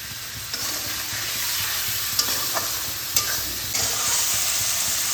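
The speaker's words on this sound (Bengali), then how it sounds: "এই শুকনো মশলাগুলোকে আমি অল্প পরিমাণ জল দিয়ে ভালোভাবে কষিয়ে নেব।" Dry spice powders cooked down in a pan with a little water for a Bengali vegetarian pumpkin curry, giving a steady soft sizzle with scattered scraping stir clicks, close and continuous with no talking.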